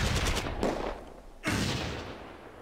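Gunfire and grenade blasts from the war game Close Combat: A Bridge Too Far, set at the Arnhem rail bridge: two sharp, loud bursts whose echoes trail away, with no talk.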